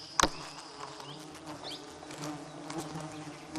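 Honey bees buzz near their hive in the jungle, a faint continuous hum with individual bees droning past at close range and one sharp knock at the start, quiet and without talk.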